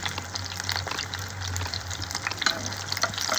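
Pumpkin flower fritters sizzle and crackle steadily in hot oil, a close, continuous frying hiss with scattered pops and no one talking.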